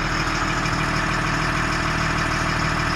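An LMTV military truck engine idles in second gear with a steady, loud diesel rumble, unchanging and continuous throughout, heard up close with no speech.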